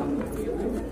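A brief, close, low coo comes from a pair of light-coloured pigeons kept with their eggs, over a steady background murmur that may include a voice.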